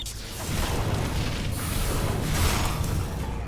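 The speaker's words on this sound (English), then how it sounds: "they also like to launch a lot of grenades" Grenade launcher explosions in the video game The Surge, a sustained heavy rumble of booming blasts that swells and holds loud for several seconds with no talk.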